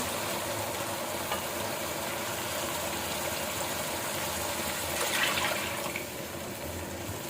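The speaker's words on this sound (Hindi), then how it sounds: "इसमें पानी डाल देंगे।" Water pours into a pot of simmering keema kofta curry, a continuous gushing, bubbling hiss that swells briefly louder near the end.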